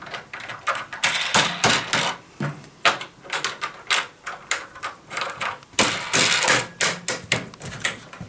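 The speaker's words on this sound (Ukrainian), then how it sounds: "Дивіться, ось два болти. Одягаємо, закручуємо." Sharp metallic clicks and knocks from tightening bolts on a Keramo carrier for large-format tiles, an irregular run of close, loud taps and rattles with short pauses between bursts.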